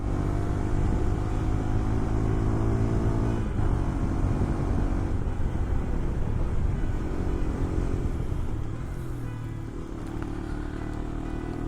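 A motorcycle engine drones steadily while riding on a cold mountain road, a continuous low rumble close by with wind noise, easing slightly toward the end.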